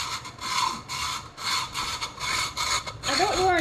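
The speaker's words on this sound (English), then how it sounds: "for something this quick and easy, I like to use a hacksaw" A hacksaw cuts through a car's intake pipe in a garage, with steady back-and-forth rasping strokes, about eight in quick succession, close and fairly loud, ending with a brief higher squeal.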